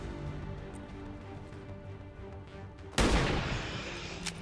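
Low ambient noise from the game XCOM 2 hums, then a single sharp, loud gunshot bursts out and rings off, with a faint click near the end.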